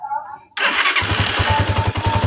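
A starter motor cranks an engine during a battery voltage test, starting abruptly after a short quiet lead-in and settling into a loud, close, rhythmic pulsing churn.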